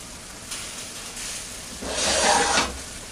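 Fettuccine noodles going into a hot pan of Alfredo sauce, giving a soft steady hiss that swells into a louder, broader sizzle near the end, with no talking.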